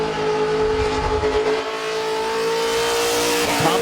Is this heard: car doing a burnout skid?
yes